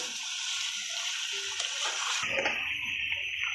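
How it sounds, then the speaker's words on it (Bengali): Hot water pours into a pan of sautéed chicken curry, giving a continuous close splash and rush of liquid. Partway through, the sound shifts and a brief hiss follows. "এখন এর মধ্যে আমি অ্যাড করব গরম পানি এই যে আমি গরম পানিটা দেবো"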